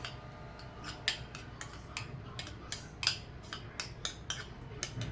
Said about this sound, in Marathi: ते थोडंसं स्मॅश करून घेणार आहे।